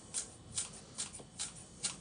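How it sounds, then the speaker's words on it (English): Tupperware kitchen scissors snip through spring onions, four crisp clicks coming at a steady, roughly even pace, close by and quiet, with no talking over them. "I'll grab my Tupperware scissors and we will just trim that little bit"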